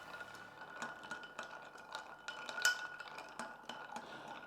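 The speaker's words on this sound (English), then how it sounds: "I'm going to stir for about 60 revolutions, so approximately 20 seconds" A chocolate Negroni is stirred with ice in a mixing glass, a quiet, steady, close-up clinking and tinkling of ice against glass and spoon that keeps up an even, continuous rhythm, with no talking.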